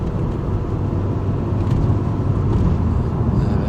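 Ford Focus MK1 engine rumbles from inside the cabin while driving through a Worcestershire village, a loud, steady low drone with road noise and no pauses.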